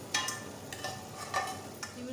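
Jaggery roasting in a pan on the stove, with soft scraping stirs and a faint sizzle coming in a few short bursts, fairly quiet and close.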